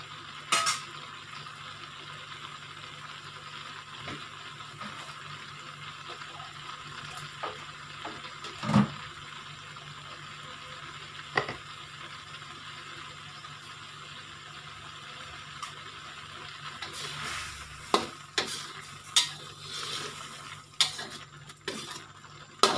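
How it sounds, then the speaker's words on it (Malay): Thick sambal simmering in a pan and stirred now and then, with soft bubbling under scattered scrapes and clinks of a utensil against the pan, busier near the end. "Kita punya sambal yang direbus ni pun ada seakan-akan pecah minyak."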